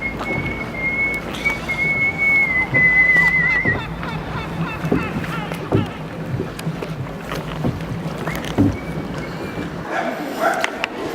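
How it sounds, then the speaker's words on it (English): A gondola ferry crosses the Grand Canal in Venice, with steady water lapping and boat noise, a constant outdoor wash, and a few faint knocks. No voices stand out. "Some little gondola ride."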